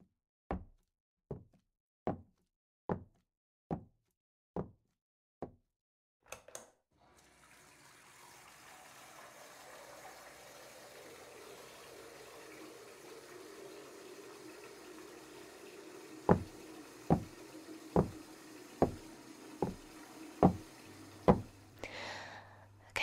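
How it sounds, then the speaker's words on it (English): A bathtub fills with running water in a steady, close hiss and rush that lasts most of the clip, after a run of evenly spaced hollow knocks at the start. More knocks return over the flowing water near the end. "the bath's running"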